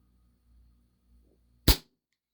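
A single sharp crack from a WE Tech Bulldog 6mm gas blowback airsoft pistol, close and loud after a quiet stretch with faint low handling rumble.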